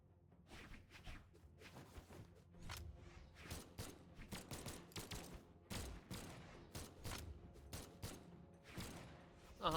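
Rapid, quiet bursts of cartoonish gunfire and thumps from a Brawlhalla match, crowded clusters of shots with brief gaps, heard faintly at a distance with no talking.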